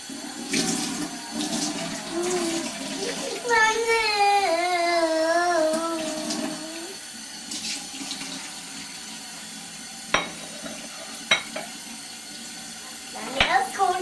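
Water running and splashing in a toy dishwasher, a steady trickle with clinks and knocks, while a voice talks over it and an adult speaks nearby.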